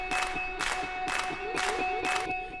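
Clap samples in an EDM track built in Logic Pro X, five sharp bright claps landing at a steady beat over sustained synth tones, loud and upfront.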